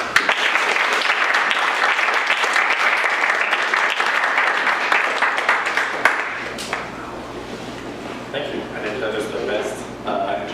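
Sustained audience applause welcoming readers at a literary reading, steady and dense for about six seconds, then thinning into scattered claps and quieter room noise.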